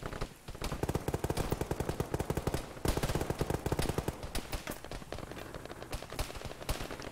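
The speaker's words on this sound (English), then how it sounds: "Dyslexia, I'm shooting over you" Rapid automatic gunfire in the military video game ShackTac rattles in long continuous bursts of sharp shots, fairly close, with little talk.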